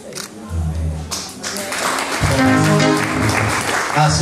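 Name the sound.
applause at a Maasai wedding after the ring vows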